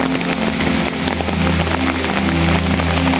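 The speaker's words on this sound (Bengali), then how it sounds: "দেখেন প্রচুর পরিমাণ বৃষ্টি" Heavy rain falls beside a house in Chandpur during a depression, a dense, steady hiss of drops that stays loud and unbroken throughout, with a low hum underneath and no talk.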